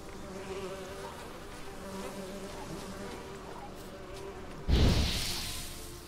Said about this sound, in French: C'est une mouche.